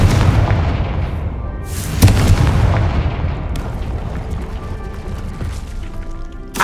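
In Hogwarts Legacy, a Confringo fire spell lands with a heavy boom about two seconds in. Rumbling game ambience and decaying blast noise fill the rest.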